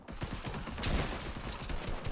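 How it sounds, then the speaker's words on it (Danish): Rapid gunfire in the video game Fortnite, a dense burst of overlapping shots peaking about midway, fairly loud and continuous with no voices over it. "Jeg bliver skudt."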